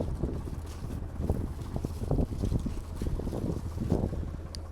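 Gusty wind buffets the microphone outdoors in a field at about plus 4 degrees Celsius, rumbling and flapping in uneven bursts with no other clear sounds.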